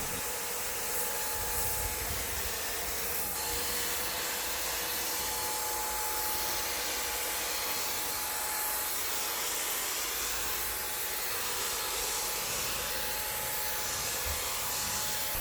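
A Wagner paint sprayer runs steadily while spraying paint onto outdoor fence panels, giving a continuous loud airy hiss with a faint motor whine beneath and no speech.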